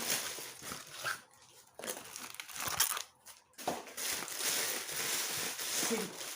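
Crinkly crushing and rustling of packing paper being pulled and crumpled while unpacking a parcel, close and irregular, in bursts with short pauses between handfuls.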